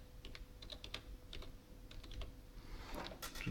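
Keys clatter on a computer keyboard as a short name is typed, a quick, uneven run of light taps, close and quiet against a faint room hum.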